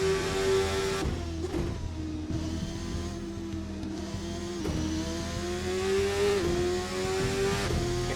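Race car lapping Phillip Island in the racing game Assetto Corsa, its engine revving steadily with rising and falling pitch through gear shifts, loud and continuous with no talk.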